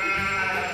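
A single Garut sheep bleats close up, one sustained quavering baa that holds steady and loud for under a second.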